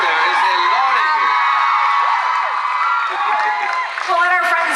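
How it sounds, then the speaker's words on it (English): A large convention crowd greets the Men of The Originals panel guests with loud continuous cheering, high whoops and screams filling the room throughout, rising again near the end. "We'll let our friends cheer for you"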